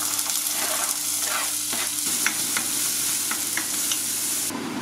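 Tomato pulp sauce with onion sizzling in a Monsieur Cuisine Connect cooker for a vegan bolognese, a steady close frying hiss broken by faint scraping stir strokes, with no talk.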